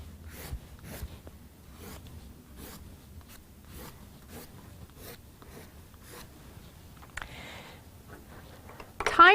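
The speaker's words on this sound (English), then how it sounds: "sound the chalk is making as I make the strokes" Green pastel chalk dragged hard across paper in broad grassy strokes, a series of close, dry scratchy rasps at a steady rhythm, fairly quiet with a brief rustle near the end.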